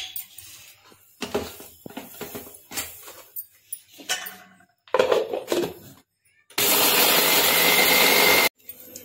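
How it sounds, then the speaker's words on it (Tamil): A kitchen mixer grinder blends sugar for a homemade eggless biscuit cake, a loud steady whirring burst lasting about two seconds after a stretch of clattering and talk. "சக்கரை இதெல்லாம் மிக்சியில் அடிச்சுக்கிறோம்."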